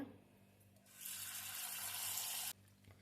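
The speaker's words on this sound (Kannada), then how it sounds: "ಅವಲಕ್ಕಿನ ನೀಟಾಗಿ ನೀರು ಹಾಕಿ ತೊಳೆದಿಟ್ಕೊಳ್ಳೋಣ" Water runs and splashes steadily for a couple of seconds, like rinsing something in a bowl, then stops abruptly.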